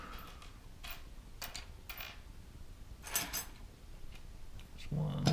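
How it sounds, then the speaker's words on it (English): Small metal screws rattling and clicking as a hand sifts through them while building a gaming PC, a series of brief scattered clinks and rustles, fairly close and moderately quiet. "Let's see if I can find the right screws."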